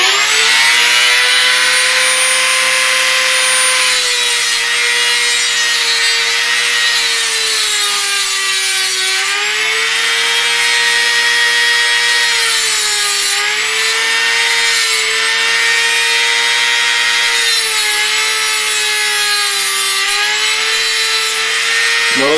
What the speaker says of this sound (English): when you're doing a Dremel, you always want to make the wheel crawl into what you're working on, not fight against